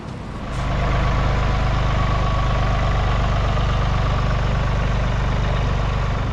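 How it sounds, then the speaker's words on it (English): A tractor's engine idles steadily and close by, a constant low rumble with a faint knocking pulse and no speech over it. "That tractor, we don't really use it a lot for much, but it's good to have."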